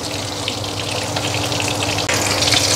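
Red paprika and chili spice paste sizzle in a pan while being stir-fried, a continuous close hiss with a brief break near the end and no talking.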